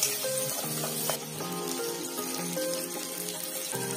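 Onions fry in a pan toward a dark, crunchy finish, a close sizzle with faint tonal ringing and bright crackle running steadily through, no talking.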